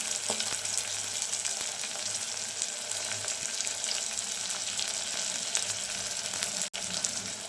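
Ginger garlic paste sizzles steadily in a hot pan while cooking paneer biryani, giving off a constant close crackling hiss with no talking.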